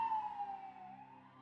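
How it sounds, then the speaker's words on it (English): A distant ambulance siren wails in a steady, slowly falling tone, faint and alone with no talk over it. "ambulance in the distance"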